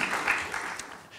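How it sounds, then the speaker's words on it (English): An audience at a media literacy and fact-checking talk applauds to welcome a speaker, a brief, moderate wash of clapping that tapers off within a second. "you can give her already a round of applause before she's even said anything"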